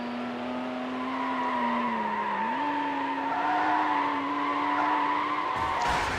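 Race car scraping and skidding against a wall in Need For Speed Hot Pursuit 2, a steady loud engine drone with tire scrub throughout and a sharper grinding burst near the end, no talking.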